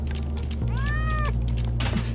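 A cat meows once, drawn out and clearly audible, in the Goat Simulator video game, over a steady hum of game background sound.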